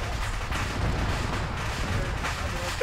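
Secondary explosions in a military video game, a continuous loud roar of booming blasts and rumbling fire that runs through the whole stretch without pause.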